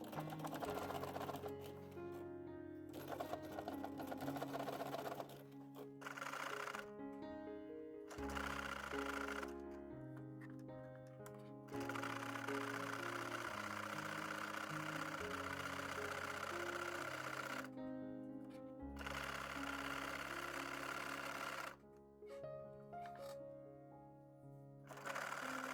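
Sewing machine running a zigzag stitch along the edge of monks cloth, a close mechanical whir with a rapid needle rhythm that starts and stops in several bursts.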